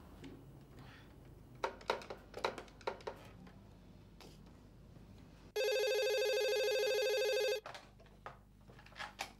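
An outgoing phone call's ringback tone sounds once as a steady two-second electronic ring, preceded and followed by faint soft tapping and handling noises in a quiet room.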